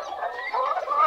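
Mottled Cochin and frizzle bantam chickens let outside cluck softly in a brief, close, murmuring run of low throaty notes, with no voices.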